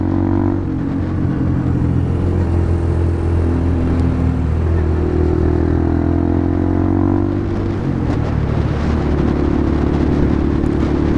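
Suzuki VanVan 125 motorcycle ridden at low revs, a loud continuous engine rumble with steady pitch and slight shifts in tone, heard close throughout.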